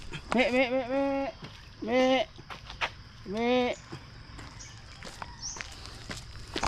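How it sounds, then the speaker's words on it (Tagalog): A goat bleats loudly three times in wavering cries, close by, with footsteps and other outdoor sounds around it. "Yung isang kambing guys oh. Nandito sa daan."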